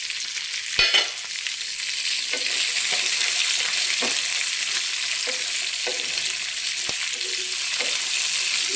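Tamarind and sesame seeds frying in a pan for a coconut and peanut chutney, a continuous bright sizzle with occasional sharp spoon scrapes and clinks against the pan.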